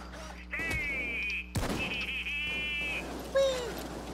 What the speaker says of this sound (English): We got three goats over there